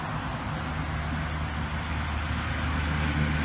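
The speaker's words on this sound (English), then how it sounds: "Another truck going by." A truck rumbles past on a road beside front gardens in early June, a loud low broadband drone that holds steady and swells slightly as it goes.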